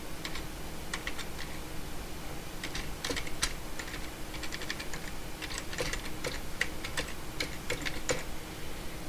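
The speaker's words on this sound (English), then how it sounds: "we'll type in the web address for facebook.com." Steady typing on a computer keyboard as a web address is entered, with irregular clusters of crisp key clicks over a faint room hiss, close and moderately quiet throughout.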